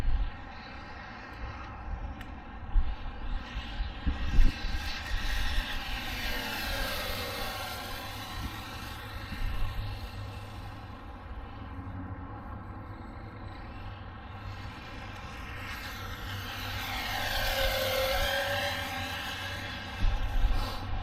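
An Arrma Mojave 4S RC truck drives fast on pavement, its electric motor whining up and down in pitch, passing near then fading out and returning in a second high-speed pass.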